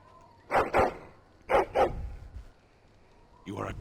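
A dog barks in a video game, giving two quick pairs of short barks and then another burst at the end, at moderate loudness against low background noise.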